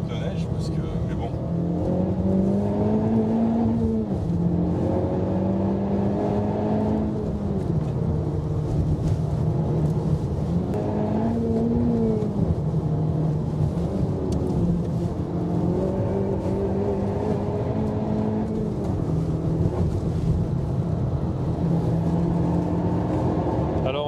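A Honda Civic Type R on snow tyres accelerates hard up a hill, its engine note climbing through repeated upshifts in a steady, loud drone that runs the whole time, with no speech over it.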